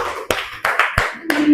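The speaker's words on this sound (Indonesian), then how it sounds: "Tepuk tangan buat kita semua." A handful of sharp, separate hand claps, about five in an uneven rhythm, ring out in a classroom during a children's coding lesson on computational thinking. A faint voice sits underneath.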